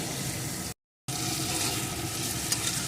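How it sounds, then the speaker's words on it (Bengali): Salt, turmeric and chili powder fry in a pan for a potato and snakehead fish dal, giving a steady close hiss with stirring scrapes, broken by a brief moment of total silence near the start. "এখন সব কিছু একটু ভালো করে কষিয়ে নেব"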